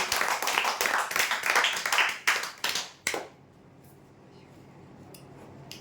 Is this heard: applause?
yes